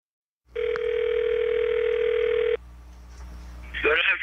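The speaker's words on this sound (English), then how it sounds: "Just 2 months earlier, Mr. Laird answered our questions over the phone" A steady telephone dial tone sounds loudly for about two seconds, then gives way to quiet line hiss before a voice begins, as a phone call to a former US Secretary of Defense connects.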